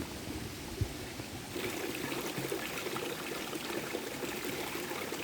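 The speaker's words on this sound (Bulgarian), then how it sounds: "Вода изобилие." Water flowing in an outdoor stream, a steady broadband rush and trickle that grows slightly fuller after the first second and continues without pause; no voices.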